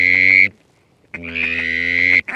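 Ducks quack loudly and close by on big open waters during a duck hunt, a long drawn-out nasal call followed by a short pause and another extended raspy quack, with no talking.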